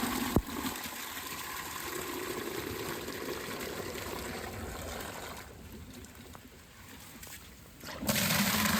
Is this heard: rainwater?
yes